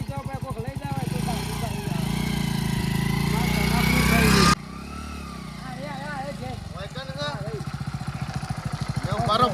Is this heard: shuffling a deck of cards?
no